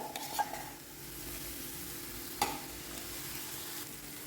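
Mashed sweet potato stirred in a pan over a faint sizzle, with two distinct utensil knocks against the pan and soft scraping in between, quiet and close.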